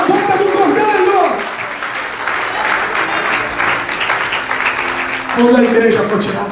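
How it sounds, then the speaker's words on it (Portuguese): A church congregation applauds for Jesus, a steady wash of clapping that swells and ebbs over several seconds while a voice speaks and sings over it. "Quantos que pode aplaudir Jesus?"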